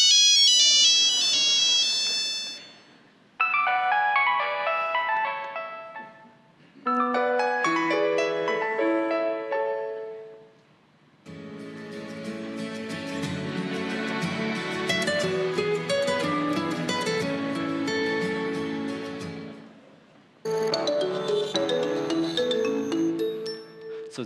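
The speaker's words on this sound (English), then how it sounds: "So that's a journey of 20 years of like Nokia tone, and it doesn't really change sound at all" Nokia ringtone, the classic Nokia tune, heard in several versions in a row from different phones over the years, from thin beeping tones to fuller polyphonic melodies, each clear and loud with brief gaps between them and no talk.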